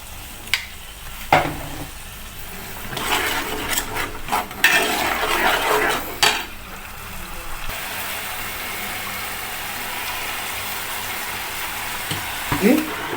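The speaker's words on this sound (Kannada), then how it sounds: "ಚೆನ್ನಾಗಿ ಫ್ರೈ ಆಗಿ ಎಣ್ಣೆ ಬಿಟ್ಕೊಬೇಕು" A coriander rice mixture fries and is stirred in oil in a pan, with a steady soft sizzle, intermittent scraping and clinking of the spoon against the pan, and some background noise.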